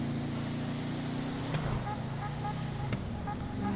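A muscle car engine in GTA drives steadily with a loud, continuous low rumble, while a voice talks over it throughout and two sharp brief clicks cut in partway.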